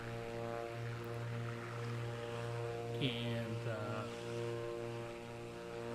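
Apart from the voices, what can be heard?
aircraft engine in video game Microsoft Flight Simulator 2024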